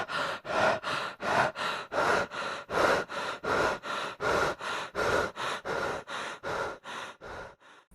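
A voice imitates a monster's heavy panting: fast, rhythmic, raspy breaths in and out, close and steady, about two each second.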